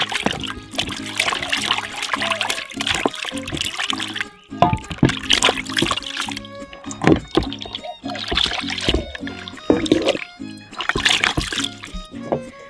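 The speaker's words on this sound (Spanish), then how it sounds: "Me voy a lavar el tuétano" Beef bone marrow gets washed by hand in a bowl of water in a kitchen, with loud close sloshing and splashing in repeated bursts and short pauses over several seconds, with no speech.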